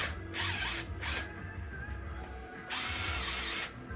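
Bolts being broken loose with a wrench or ratchet, heard as three loud, close bursts of rattling mechanical clatter with short pauses between them and no voices.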